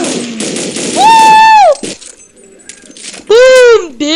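Counter-Strike zombie mode gunfire bursts out in loud electronic volleys, with swooping synthetic tones and excited voices shouting between the shots.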